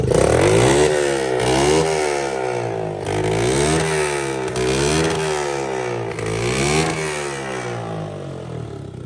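A Honda 250SX motorcycle engine idles and revs in steady waves after starting, loud and close, with no voices over it.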